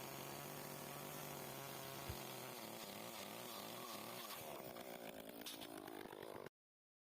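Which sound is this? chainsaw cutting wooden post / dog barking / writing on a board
chainsaw cutting wooden post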